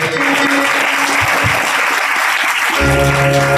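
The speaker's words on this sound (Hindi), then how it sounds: "एक बार जोरदार ताली गुरुदेव के लिए" Loud, sustained clapping from a temple audience honouring the Gurudev, a dense, steady roar of applause that fills the clip with no clear speech.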